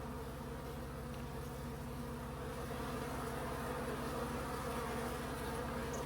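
A dense swarm of insects pours from a nest, a steady, close droning buzz of many wings that holds without a break.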